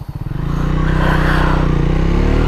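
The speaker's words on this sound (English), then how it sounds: "it has a very throaty exhaust note" A deep, throaty Triumph Speed 400 motorcycle exhaust note, starting with a few quick pulses and then settling into a steady, loud low rumble close by.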